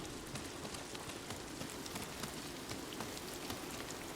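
Steady, dense rain pattering on rocks and ground in the samurai video game Ghost of Tsushima, a continuous close hiss of drops with no voices.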